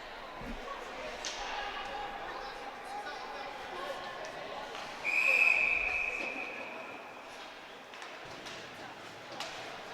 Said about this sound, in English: Referee blowing the whistle here.